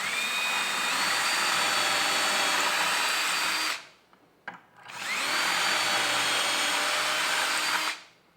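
A power drill bores holes for drawer pulls through a jig clamped to the workpiece of a DIY mobile kitchen island, whining loudly and steadily in two long bursts with a brief quiet gap between them.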